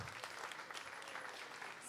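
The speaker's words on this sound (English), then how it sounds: "Put a big round of applause for all the children." A crowd at a temple Sunday love feast applauds the children, a short, faint burst of clapping.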